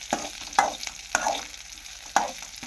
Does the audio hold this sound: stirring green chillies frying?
yes